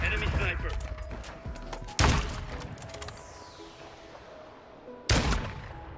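Sniper gunfire in the video game Modern Warfare 2, two sharp loud shots a few seconds apart with ringing decay, over busy game noise and voices talking.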